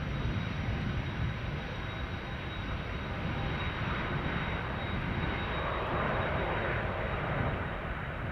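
Airliner landing at Amsterdam Schiphol, an A330 using moderate thrust reversers, gives a steady loud broadband roar throughout with no pauses and no voices.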